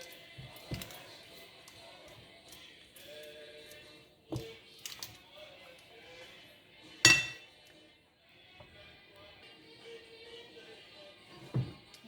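Metal cake moulds for an orange cake clink a few times as they are handled in a kitchen: scattered light taps and one sharper clink, separated by quiet pauses with a low background hum.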